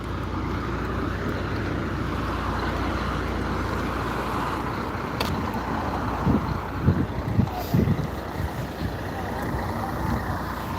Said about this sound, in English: Damn, that's a noisy truck.